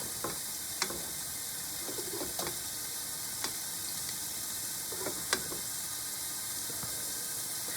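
Fleischschnaka meat rolls, pasta-wrapped snails of meat, frying in a pan with a soft, steady sizzle and a few sharp crackles and pops spread through, close and fairly quiet.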